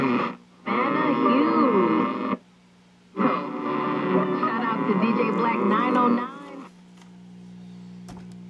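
Loud, steady hum with strong gain from an old battery personal radio fitted with FET audio output tubes, playing in two long stretches separated by brief drops, then fading to a low residual drone.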